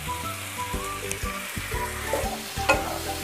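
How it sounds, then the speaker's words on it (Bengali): Marinated duck meat hitting hot oil with fried onions in a kadai, a loud, close, continuous sizzle with bubbling crackle and stirring. "এবার ম্যারিনেটেড মাংসটা অ্যাড করে দিলাম।"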